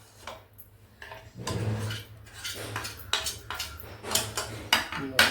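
Salt, asafoetida and turmeric being stirred in oil for a mango pickle, with repeated metal-on-pan scrapes and clinks close by, growing denser and sharper toward the end, no talking.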